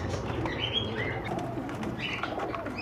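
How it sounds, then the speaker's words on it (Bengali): A female pigeon in a Medinipur bird shop coos softly, with a few chirps and steady bird chatter around it and no talking. "তো এটা হচ্ছে মাদি পায়রা আছে,"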